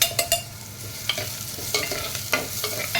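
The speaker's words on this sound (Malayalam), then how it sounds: "അത് നമുക്ക് നന്നായി ഒന്ന് മിക്സ് ചെയ്തെടുക്കാം." Green chillies being stirred into a fish curry in a pan, with a soft steady sizzle and a few sharp utensil scrapes and clinks scattered through, close and alone without talk.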